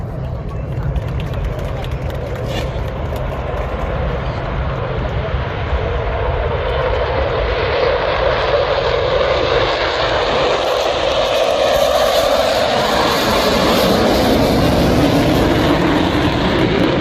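US Navy Blue Angels jets fly over at the 2023 NAS Pensacola air show. A loud, continuous broadband roar builds and holds throughout, thick and rumbling like a close flyover.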